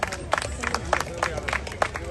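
An audience at a community gathering's award ceremony claps loudly and briskly, with sharp individual claps over crowd murmur and a few voices in the room.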